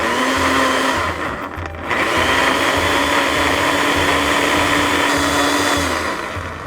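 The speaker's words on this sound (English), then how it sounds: "Okay, now we're gonna mix our coconut cream, banana, and our pineapple. We're gonna go ahead and put that in our blender." A blender purees coconut cream, banana and pineapple with a loud, steady whirring drone that dips briefly near the start before resuming at full strength.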